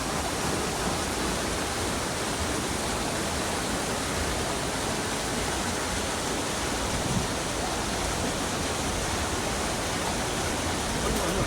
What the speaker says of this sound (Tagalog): Wala pa ring tigil ang pagtaas ng tubig.